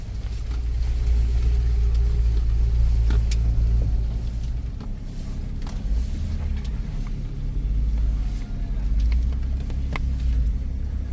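An off-road vehicle revving up a slippery muddy slope: a deep, loud engine rumble that rises and falls continuously for about eleven seconds, heavy and close, with no talk over it.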